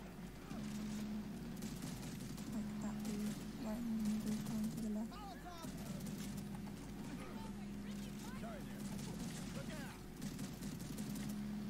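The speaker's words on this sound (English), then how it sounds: "I've got a fat minigun pointing left." Rapid automatic gunfire from a minigun in the co-op zombie shooter Back 4 Blood, a steady rattling barrage with bursts running through most of the stretch, mixed with players talking over game sounds.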